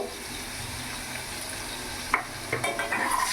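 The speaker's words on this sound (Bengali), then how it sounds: "আলুটাও আমি ভেজে নেবো আলুটাও ভেজে নিয়েছি" Potatoes frying in oil with salt and turmeric in a pan, a steady soft sizzle with a few sharper crackles and stirring clatters near the end.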